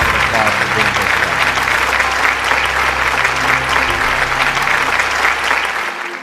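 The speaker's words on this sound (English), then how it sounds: "please join me in thanking him with a round of applause for being here today" A seated audience at a question-and-answer event gives a sustained round of applause, full and steady throughout before fading out at the very end.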